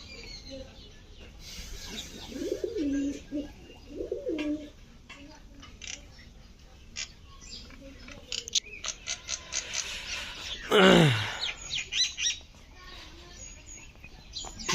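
Pigeons cooing while they feed make a few soft, low coos early on, amid pecking, scuffling and other background sounds, with a brief louder noise near the end.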